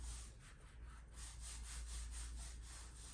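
A sheet of paper being wiggled back and forth under the nozzle of a Creality Ender 3 V2 3D printer while levelling the bed, giving a quiet, rhythmic scraping rub repeated steadily, close and faint, with no talking.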